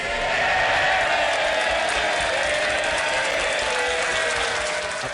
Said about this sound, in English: your jingle gets more and more elaborate. You've now got cheering and clapping